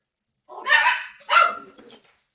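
Small dogs bark in two sharp, close bursts followed by a softer trailing yip, loud and clear with no talking over them.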